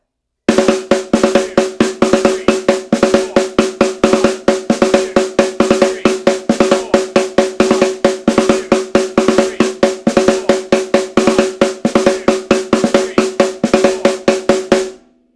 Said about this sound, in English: On just the snare drum with the counting and all that, it sounds like this.